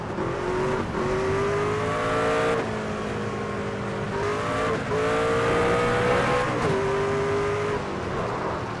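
A race truck in the NASCAR 25 video game howls through repeated gear shifts, its engine pitch climbing and then dropping sharply about every two seconds, loud and continuous with no talking.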